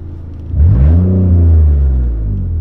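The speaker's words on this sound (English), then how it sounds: "don't mind my super loud car. I currently have my exhaust cut off from doing my clutch" A BMW engine running with its exhaust cut off revs up loudly, a deep rumbling roar that swells after a brief idle and holds steady close by.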